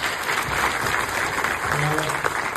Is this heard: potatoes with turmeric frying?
no